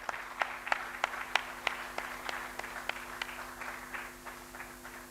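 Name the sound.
audience applause for startups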